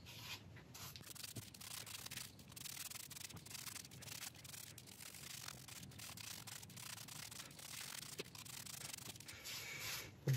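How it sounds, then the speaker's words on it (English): A cloth wipes excess solution off an oak piece with soft, steady rubbing strokes, faint and close, repeating throughout with no talk. "I'm going to quickly go over this with a cloth, because I've got quite a bit of excess there."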